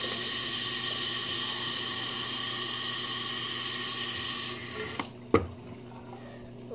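Cold water gushes steadily from a tap with a loud, close hiss, then cuts off abruptly, followed by a brief clunk and quiet.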